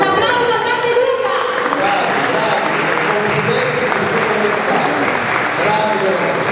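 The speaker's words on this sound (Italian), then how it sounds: "Un applauso a Grande Luca" An audience claps loudly and steadily at an applied arts and crafts event, a dense continuous patter of many hands with voices mixed in underneath.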